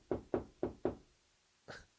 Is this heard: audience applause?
no